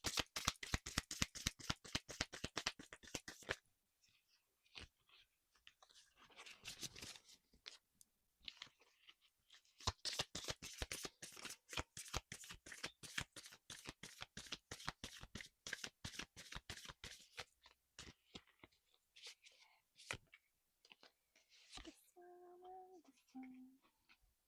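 Tarot cards shuffled close up in quick rapid riffling bursts, with pauses between rounds and softer handling sounds as cards are drawn, near and quiet, with faint low voice near the end.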